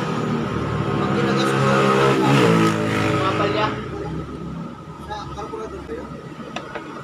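A Rusi Venus scooter with a tuned GY6 engine revs hard and close, its buzzing roar swelling to a peak and then settling to a lower idle-like drone while people talk nearby.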